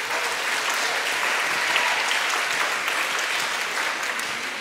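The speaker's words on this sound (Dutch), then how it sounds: "En ik wil graag een groot applaus geven." Steady, dense applause from a live audience at a presentation, sustained and loud throughout with no pauses or talk over it.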